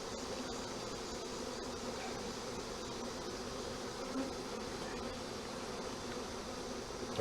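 Honeybees hum and buzz steadily from an opened hive during a pre-winter inspection, a dense, constant drone close by with no voices.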